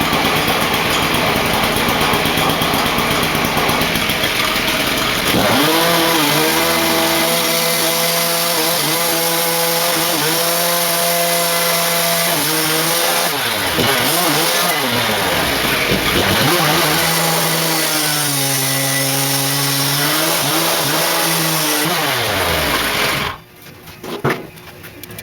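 A powered saw cutting through a Ford Explorer 8.8 rear axle housing, a loud continuous whine that rises and falls in pitch for over twenty seconds, then stops abruptly near the end.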